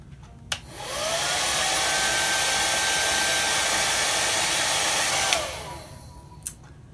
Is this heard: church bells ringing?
no